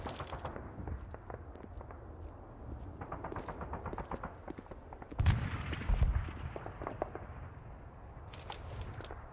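Rapid, irregular rifle fire from a Full Spectrum Warrior firefight crackles in clusters of sharp reports, with a heavier low thump in the middle, fairly faint overall.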